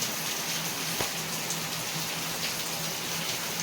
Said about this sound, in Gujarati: જો કેવો વરસાદ છે